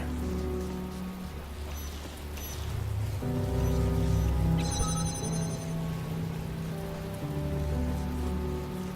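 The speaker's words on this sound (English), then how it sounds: "Oh, the rain's coming back." Rain falling in The Talos Principle video game, a steady close hiss of drops pattering on surfaces, with a low ambient tone shifting underneath and a brief chime partway through, no voices.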